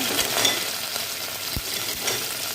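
Mustard seeds, shallots, dried chillies and curry leaves sizzle in hot coconut oil, a steady close crackling hiss with a brief stirring knock midway.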